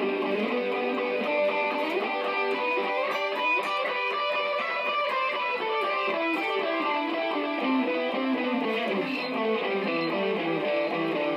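Distorted electric guitar plays a fast, continuous melodic line from the solo section of a song, with dense rapid notes and echo-like layering, loud and steady with no talking.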